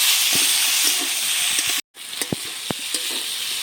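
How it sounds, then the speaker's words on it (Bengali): Potatoes and cauliflower sizzle loudly in hot white oil, a dense steady frying hiss broken by a brief cut, with occasional stirring clinks and scrapes. "সাইড দিয়ে একটু সাদা তেল দিয়ে দিচ্ছি"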